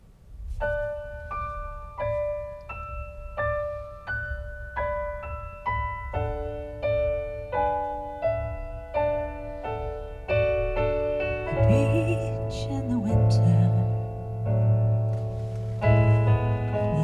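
Music plays back through new Audison front speakers in a Porsche 911: a bright melodic instrumental with clear sustained notes over a steady low bass, building fuller toward the end.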